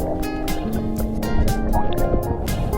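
Big ocean waves off O'ahu, Hawaii, heard underwater while snorkeling: rhythmic, loud surging washes and bubbly gurgles, close and continuous, with no talking.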